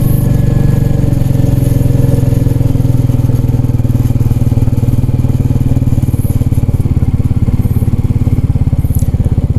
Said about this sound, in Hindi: चलिए देखते हैं बाइक कहाँ तक जाती है।